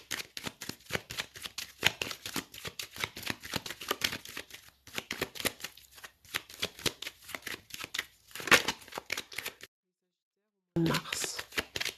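A tarot deck is cut and shuffled in a run of dense, rapid card riffles and flicks, fairly close and steady, with a short silent gap near the end before a voice speaks.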